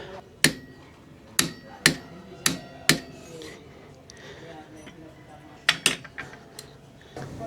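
A Yamaha Nmax CVT bolt is tightened to 55 Nm, producing sharp, close metallic clicks: a quick run of five, a pause, then three more over faint background noise.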